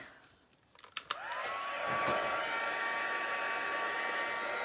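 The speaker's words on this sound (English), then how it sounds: "This is our heat tool." A crafting heat tool for melting embossing powder clicks on and then blows with a steady, fairly loud whirring hiss, rising in pitch as it warms up and holding a constant tone.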